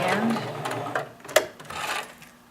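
Home sewing machine stitching fabric pieces for toy limbs and tail, running in short bursts with a buzzing motor and a brief click, while someone speaks throughout.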